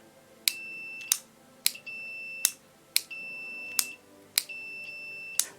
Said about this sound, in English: I think you can hear the beep.